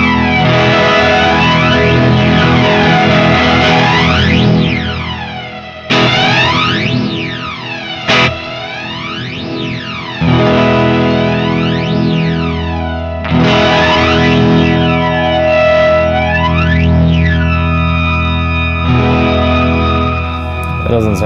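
Electric guitar through the flanger mode of an Old Blood Noise Procession pedal, sustained distorted chords with deep jet-like sweeping swooshes rising and falling, loud and up close with no speech.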